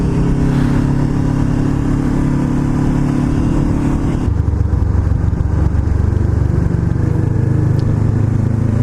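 A 2017 Honda CBR500R motorcycle engine revs loudly and close, a sustained droning roar that shifts pitch partway through as the throttle changes.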